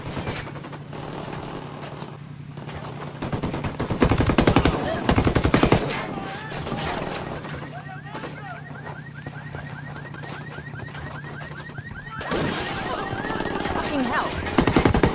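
Sustained automatic machine-gun fire in the video game Ghost Recon Wildlands, loud bursts and rapid rattling volleys with a steady rhythmic chatter through the middle and heavier rounds at the ends, set against background combat noise.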